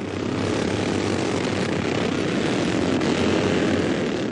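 Big racing motorcycles, ranging up to 2000cc, roar past on airfield runways at Staverton Airfield, a loud, steady, droning engine wash with no talk over it.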